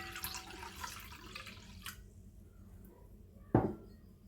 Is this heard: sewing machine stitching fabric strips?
no